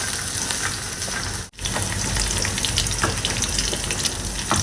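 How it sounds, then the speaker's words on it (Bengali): Green chillies and onion fry slowly in oil, giving a dense, even sizzling hiss that cuts out for a moment and then carries on. "কাঁচামরিচ আর পিঁয়াজ যাতে এখন একটু লাল লাল করে আস্তে আস্তে ভেজে দিব"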